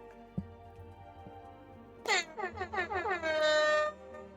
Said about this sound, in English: Back to the air horn.